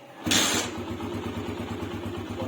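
A motorcycle started directly in gear without the throttle: after a brief quiet moment the engine catches with a burst, then settles into a steady, close, rhythmic idle.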